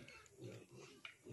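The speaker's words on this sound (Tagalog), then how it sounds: "Ayun baboy yan." Pig grunting at a farm in the Philippines, several short low grunts in a broken rhythm, close and fairly quiet, with outdoor background noise and no talk.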